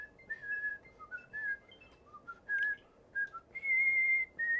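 A whistled melody from the Banjo-Kazooie game music, phrased in short, clear notes that rise and fall and end on a long held tone, soft and alone over faint background noise.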